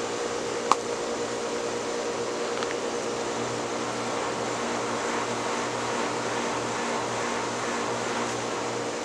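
A Southern Fan Co. Tara ceiling fan runs steadily with a low, even motor hum and soft air whoosh, one faint tick near the start, no voices.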